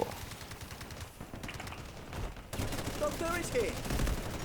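Rapid automatic gunfire rattles in the Delta Force video game, dense bursts of shots running nearly continuously under excited voices of players talking.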